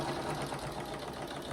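A sewing machine stitches quilt binding in a steady, continuous motorized hum with a fast even rhythm, close and moderately loud, with no talking.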